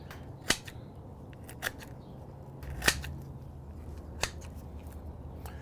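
Poultry shears snip through raw chicken skin and spine in four sharp, separate cuts spaced a second or so apart, faint against a quiet kitchen background.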